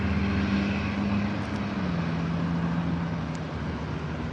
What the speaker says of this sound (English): Another Southwest plane is leaving.